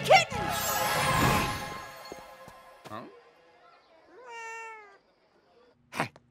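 A cartoon kitten meows in a few short, high, pitched calls with sliding tones, spaced apart between bursts of other cartoon sound, close and clear.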